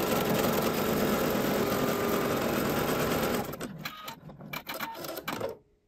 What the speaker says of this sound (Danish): Og nu har jeg altså filten på undersiden, som nu bliver syet fast til det øverste lag her.